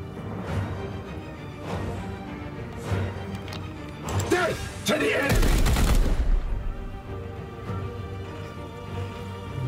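Gunfire from the Chaos Gate: Daemonhunters game comes as scattered shots under a continuous music and effects bed, rising to a loud crashing volley midway before settling again.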